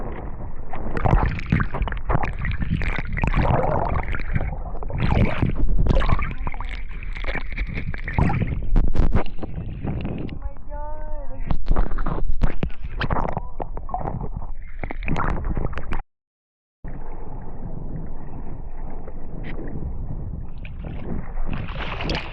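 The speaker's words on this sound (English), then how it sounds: "My first paddles." Paddling on a new surfboard in the water, with a steady churn of splashing and sloshing strokes up close, broken by a brief silent gap before the water noise returns.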